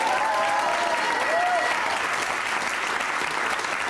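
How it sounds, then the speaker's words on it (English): Studio audience applause at a 1987 children's BBC quiz show, a dense steady wash of clapping filling the whole span, loud and continuous with a brief tonal whistle-like sound early on. "Give him a nice round of applause."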